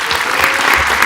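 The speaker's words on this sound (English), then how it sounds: "Can we all please give them a round of applause?" An event audience gives a loud, dense round of applause for the organizing committee, with steady clapping filling the whole moment.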